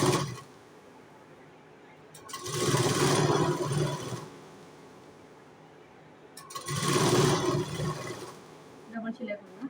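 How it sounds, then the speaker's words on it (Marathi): Sewing machine running in two bursts while stitching the lining of a katori blouse, double-stitching over an attached loop strip; steady buzzing whir, close and fairly loud, with quiet gaps between runs. "डबल शिलाई करूया."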